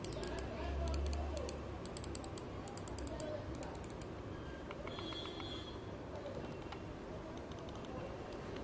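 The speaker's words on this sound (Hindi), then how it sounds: "तो भाई माउस की क्वालिटी बहुत ही ज़्यादा अच्छी है, और इसके क्लिक्स की आवाज़ कुछ ऐसी है" A HyperX computer mouse clicks in quick bursts of sharp, light ticks, faint and close, with short pauses between clusters over quiet room tone.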